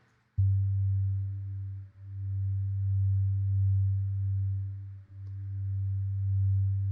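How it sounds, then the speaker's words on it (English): A detuned singing bowl with a very low delta tone hums as a deep, steady drone, with soft dips where it seems to be struck again every few seconds, sounding alone and close. "So that's actually a bowl that I recorded"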